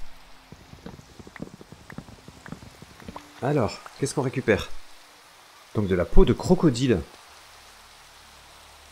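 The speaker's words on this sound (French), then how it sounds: "Ah, il pleut, ça faisait longtemps." Rain falls in a TerraFirmaCraft world in Minecraft, a soft steady hiss running under someone speaking French throughout.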